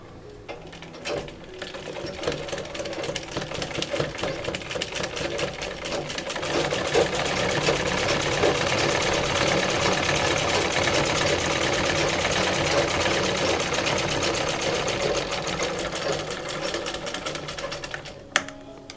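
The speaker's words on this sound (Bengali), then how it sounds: "এখন এইখানে যে ভাঁজটা হয়েছে ঠিক সোজা বরাবর এই সাইডে একটা সেলাই করব" A sewing machine runs a long seam along the fold of a cloth face mask, a rapid, steady mechanical whirring of stitches that picks up speed after a few seconds and stops near the end, close and alone without speech.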